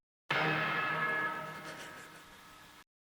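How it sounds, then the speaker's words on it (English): A loud, bright orchestra hit layered with piano from a song chorus, one big sustained stab that decays slowly over about two and a half seconds, no voices. "You have your orchestra hit, you have your piano."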